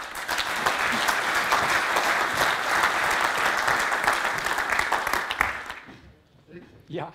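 Warm applause from the audience at a water-safety knowledge day on flood-defence maintenance, a dense steady clapping that carries on for about six seconds, then fades out and gives way to a brief voice.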